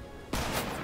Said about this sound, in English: I shot 3 times